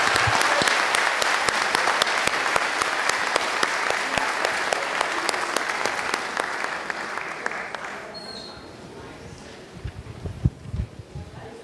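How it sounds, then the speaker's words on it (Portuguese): A seated audience at a university program event breaks into a round of applause, sustained and full for several seconds, then thins into scattered individual claps with a few louder close hand claps near the end. "Salva de palmas."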